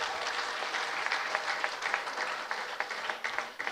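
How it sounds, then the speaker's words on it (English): A crowd applauds a governor at a state event during a presidential working visit in Imo State, Nigeria: steady, fairly distant clapping with a few sharper individual claps standing out near the end. "deserves a tremendous, resounding round of applause."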